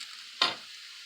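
Sliced potatoes and onions frying in a pan give a steady low hiss, with one brief louder sizzle and scrape as they are stirred.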